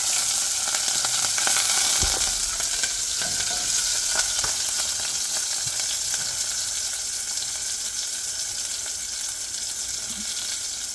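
Green chilies frying in hot oil for a South Indian chayote squash dal, a continuous bright crackling sizzle, loud and close, gradually easing slightly over time, with no voices.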